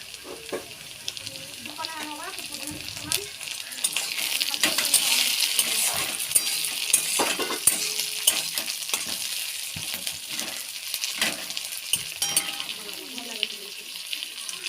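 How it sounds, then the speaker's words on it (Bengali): Chopped tomato with onion and slit green chili sizzles loudly in a hot pan, with steady crackling and frequent metallic scrapes and clinks of a spatula as it is stirred. "টমাটো কুচিটাও একটু ভেজে নিলাম"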